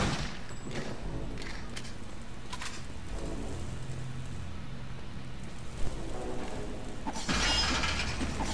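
Objects shattering and breaking in Return to Castle Wolfenstein, with sharp crashing bursts scattered over a continuous background of game noise and a louder burst toward the end.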